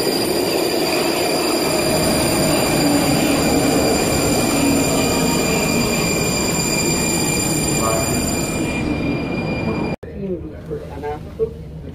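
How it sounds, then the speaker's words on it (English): A Prague metro train rides along with a loud, steady rumble and rail noise from inside the car, high squealing tones overhead, until the sound cuts sharply near the end to quieter ambience with brief faint voices. "we're just jumping on the metro"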